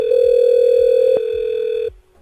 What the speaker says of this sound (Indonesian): Kita tes dari X Lite menghubungi client 2, yaitu extensionnya 102. Kita telepon.